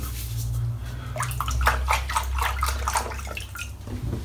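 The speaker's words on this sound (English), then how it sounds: "Just going to wet my head just again, just a little bit of water on it." Water pours and splashes onto a head before shaving, with a run of quick, close, irregular splashes and drips over a steady low background hum.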